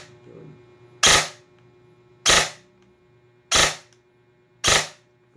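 A Lonex PRSD airsoft rifle with an upgraded brushless motor fires four sharp, loud single shots at roughly even intervals, each a crisp crack that fades quickly, over a faint electronic hum and without speech.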